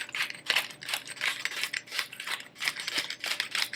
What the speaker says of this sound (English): Get my little perfect little grinder here and grind that up real good